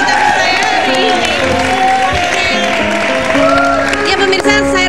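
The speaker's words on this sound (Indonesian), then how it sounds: "Tepuk tangan sekali lagi yang luar biasa buat tamu-tamu saya hari ini" Studio audience applauding and cheering for the guests on an Indonesian TV talk show, a steady wash of clapping with a few whoops, mixed with music and a host's voice talking over it.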